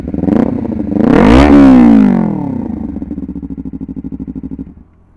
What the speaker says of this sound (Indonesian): Coba dengerin suara knalpotnya dulu deh, sebelum gua matiin.